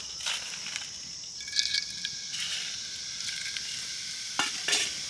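Cumin and fennel seeds sizzling in hot white oil, a close crackling fry with a few sharper spattering pops and stirring scrapes, steady and moderately quiet.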